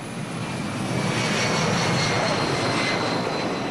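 Steady, loud airplane engine drone inside the cabin on a long flight to Madagascar. The roar stays constant and fills the whole clip.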